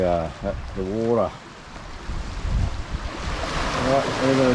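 Water and waves wash over a rocky shore at low tide, a broad hiss and slosh with wind buffeting the microphone, while someone talks intermittently over it.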